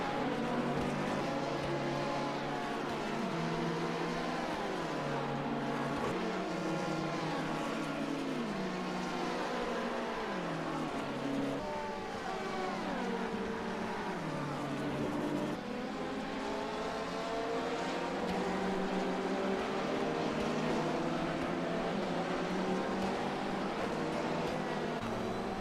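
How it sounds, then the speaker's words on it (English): McLaren 720S GT race car heard onboard at Road Atlanta, its engine roaring steadily with rapid pitch rises and drops through upshifts and downshifts, continuous and close, with no talk. "On board with the McLaren."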